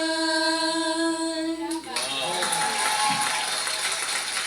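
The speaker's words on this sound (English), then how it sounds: "Huge round of applause for Ratrika and her grandmother." At a children's singing contest stage show, a girl's sung note with her grandmother fades out, then a loud, steady wash of audience applause breaks out and holds for several seconds.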